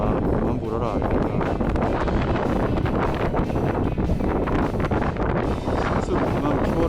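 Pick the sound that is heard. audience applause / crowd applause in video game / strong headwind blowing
strong headwind blowing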